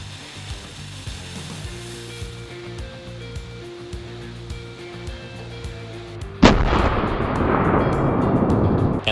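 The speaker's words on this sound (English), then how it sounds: "I'm gonna light this sucker off and we're gonna see if this cannon's actually gonna work" A cannon loaded with a 3/4 pound powder charge fires with one sudden loud blast after a few quiet seconds, followed by a sustained rushing roar.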